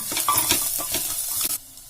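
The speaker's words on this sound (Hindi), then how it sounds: "तो 1 गिलास पानी मैं अभी डाल रही हूँ, 2 और 3, तो 3 गिलास पानी है ना इसके अंदर जाएगा ही" Glasses of water are poured into a pan of roasting broken wheat porridge (dalia), giving a close splashing, sizzling rush with bubbly pulses for about two seconds before it briefly quiets.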